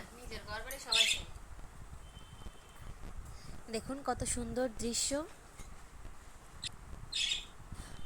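Pet birds kept at home chirp and tweet in short, sharp bursts near and far while a person talks over them.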